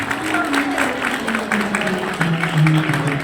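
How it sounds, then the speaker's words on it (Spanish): An audience applauds at a festive celebration in honour of the Child Jesus, steady clapping mixed with crowd noise and scattered voices, with low musical tones running underneath. "¡Fuerte los aplausos!"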